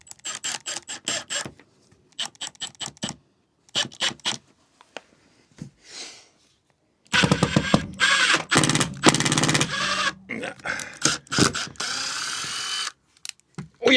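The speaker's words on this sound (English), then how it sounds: "let's just try drilling it in to start with." Power drill driving screws into the floor of a VW Caddy micro camper van, in several short bursts that run into longer, louder grinding runs with whirring spin-ups and pauses, close by.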